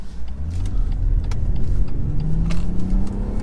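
A BMW M140i, a rear-wheel-drive hatchback, revs its engine continuously up close, with a steady low drone rising in pitch toward the end. No one speaks.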